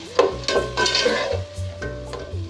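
Peas and whisked yogurt being stirred in a pot for aloo matar pulao, with a few scraping strokes and a soft sizzle underneath, close and fairly loud, no talking.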